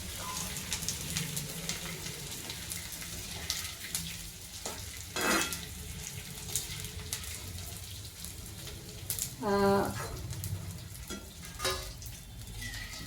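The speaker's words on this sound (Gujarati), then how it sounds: "તો હવે આપણે આ ગુંદ છે એ થોડો થોડો નાખી અને તળી લઈશું" Small pieces of edible gum (gond) fry in hot ghee with a steady soft sizzle, interrupted by a few brief stirring and scraping clatters.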